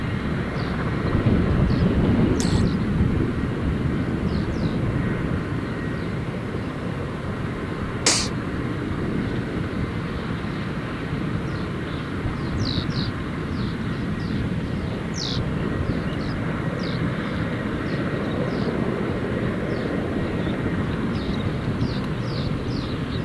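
Aircraft taking off from the runway at Gold Coast Airport, a steady broadband engine roar that stays loud and sustained throughout, with faint chirps over it.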